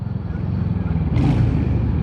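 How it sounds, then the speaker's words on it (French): A Royal Enfield Hunter 350 motorcycle engine rumbles steadily at close range, with a brief rise in revving partway through; no one speaks. "Ce bruit de moteur"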